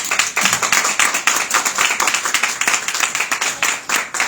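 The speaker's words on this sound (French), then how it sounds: "Applaudissez pour elle." A press conference audience claps for a singer, with brisk, steady applause from a modest crowd for about four seconds and no talking over it.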